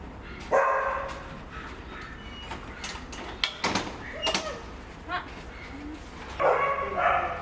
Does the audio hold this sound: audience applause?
no